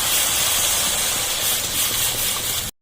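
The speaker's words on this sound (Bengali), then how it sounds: "এবার আমি আগে থেকে গরম করে রাখা জল পরিমাণ মতন আমি দিয়ে দিচ্ছি।" Pre-heated water pours into a pan of fish, cauliflower and potato curry with hot oil, giving a loud, continuous hissing sizzle and gush that stops sharply at the end.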